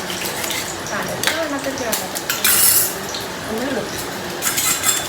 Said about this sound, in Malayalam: മുട്ട ചിക്കി പൊരിക്കുക കേട്ടോ.